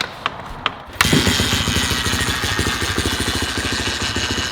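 A Suzuki dirt bike that had been sitting dead catches on its first kick, a few sharp clicks of kicking followed by the single-cylinder engine firing up into a steady, loud, rapid putter that carries on alone.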